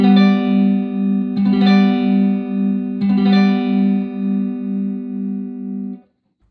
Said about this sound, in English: And when we play them all together, it sounds like this.